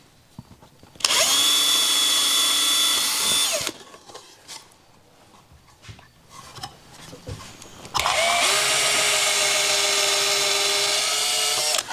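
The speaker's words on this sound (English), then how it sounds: "I'll drill this one first." A power drill bores a hole through a wooden disc into a workbench in two loud, steady bursts of whining spin, about two and a half and four seconds long, with a quieter stretch of handling noises between them.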